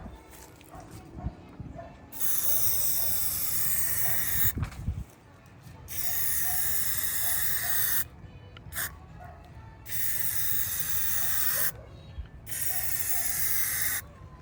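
Bursts of PlastiDip aerosol spray hiss onto the side emblems of a Ford F150 for a fourth coat, close and loud, in several long blasts separated by short gaps.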